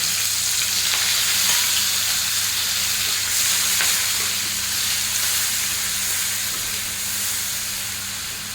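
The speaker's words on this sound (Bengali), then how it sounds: "এটাকে আমি যতক্ষণ না পেঁয়াজের কাঁচা ভাটা যায় ততক্ষণ পর্যন্ত এটাকে ভেজে নেব" Green chillies with onion, tomato, ginger and garlic paste frying in hot oil, a steady bright hiss of sizzling that fades slightly toward the end, with a low background hum and no talking.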